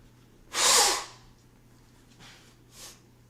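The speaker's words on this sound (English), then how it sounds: "I gotta blow my nose because it's really distracting me." A person blows their nose in one loud, sharp burst lasting about half a second, then gives two quieter sniffs or snorts that follow close by against a quiet background.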